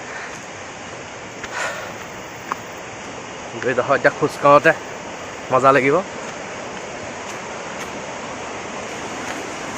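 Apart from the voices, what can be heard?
Linhojar waterfall roaring water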